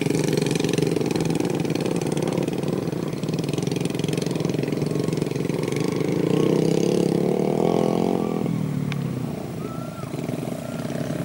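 A custom-built trail motorcycle fitted with a Honda Blade engine runs steadily close by, a loud continuous mid-pitched drone with slight revving changes, heard alone throughout.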